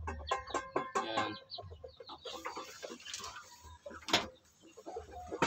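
Native chickens cluck in short bursts at close range, with a few sharper calls mixed in and light background noise.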